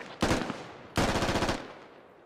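Two long bursts of rapid machine gun fire ring out in the Squad Ops video game, each a dense rattling volley lasting about half a second, loud and close, with a reverberant tail after the second.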